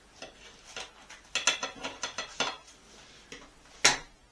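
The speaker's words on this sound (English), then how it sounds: "Let's cut the pizza. Oh, it's nice and crispy." A crispy Neapolitan pizza being cut, a run of crunchy scraping strokes across the crust followed by a sharp metallic clink of the cutter on the pan, close and clear with no speech.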